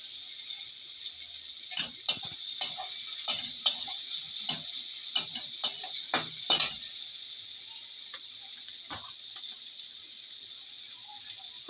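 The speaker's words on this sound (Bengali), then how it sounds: "একই তেলের মধ্যে পেঁয়াজ কুচি দিয়ে দেবো।" Chopped onion sizzles in hot oil left over from frying prawn gram-flour fritters, a steady close hiss with a run of sharp clicks and scrapes from stirring that fades into an even sizzle.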